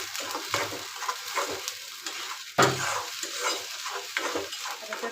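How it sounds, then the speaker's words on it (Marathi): Ground masala paste sautéing in a pan: soft sizzling under repeated scraping stir strokes, with one louder scrape and clatter midway, all close up. "व्यवस्थित परतून घ्यायचं."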